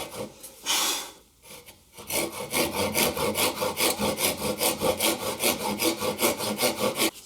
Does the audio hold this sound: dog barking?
no